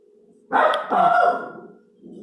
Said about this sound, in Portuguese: a minha cachorrinha. Passa gente na rua, ela já fica doida e late.